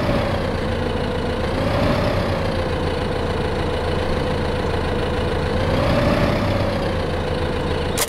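A steady, low tractor engine idle in the video game Farming Simulator drones continuously with slight rises in pitch, close and even throughout.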